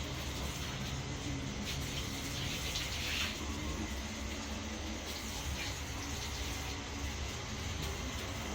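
Running water rinses stain and mold cleaner off a surface, a steady, faint gushing splash that continues evenly throughout with a low rumbling undertone.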